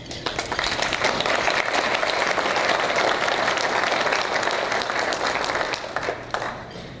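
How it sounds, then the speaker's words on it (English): An audience at a village state-of-the-address event bursts into sustained applause, a dense, even wash of clapping that holds for several seconds before thinning out near the end. "Please join me in thanking them with your applause."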